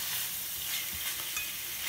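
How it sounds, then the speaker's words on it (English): Bok choy with coconut aminos sizzles in a skillet as it is given a quick stir, producing a steady close frying hiss with faint soft scraping beneath it. "Just going to give it a quick stir there."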